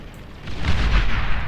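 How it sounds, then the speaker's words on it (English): A cluster of bombs exploding in the strategy video game Beyond All Reason, heard as a loud, dense rumbling barrage of overlapping blasts that swells and holds. "You drop one little cluster of bombs, but there's like 40 bombs in that cluster."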